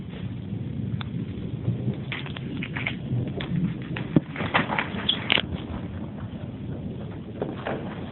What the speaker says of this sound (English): The rumbling you're hearing is the thunder. The popping is, of course, the fireworks